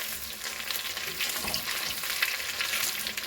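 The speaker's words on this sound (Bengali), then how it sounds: "এইভাবে লাল লাল করে ভেজে নেবেন।" Fish pieces for chilli fish fry in hot oil, a dense, continuous bubbling sizzle heard up close with no talking.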